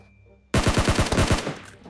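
After a near-silent start, a rapid burst of automatic gunfire erupts in PUBG Mobile, loud and close, with about a dozen shots in quick rhythm before tailing off.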